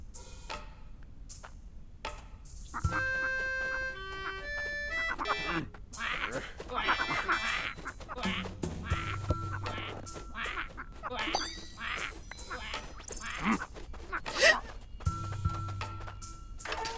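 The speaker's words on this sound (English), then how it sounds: "Okay, we have another bird here." Cartoonish duck quacks from a bird in the video game Snufkin: Melody of Moominvalley, sounding as repeated short calls over game music and chimes, with a person talking throughout.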